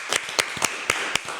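Sparse claps ring out about seven times in 1.5 seconds, scattered and uneven against a steady hiss, as a small audience applauds a guest named Shirley at a talk about the Grammys.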